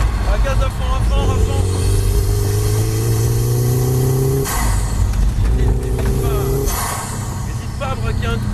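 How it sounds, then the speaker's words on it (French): A car engine revs hard under full throttle, its pitch climbing through two long pulls with a gear change between them, loud and close, with someone talking over it. "Ah, gaz à fond."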